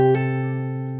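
On guitar, a held bass note rings while a quick hammer-on adds a second attack, then the notes sustain and gently decay, heard up close with no talking.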